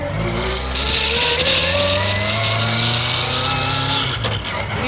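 The engine of the Retropower Project Vader car roars steadily while driving at speed, close and loud, with rising pitch and a shift near the end; no talking is heard.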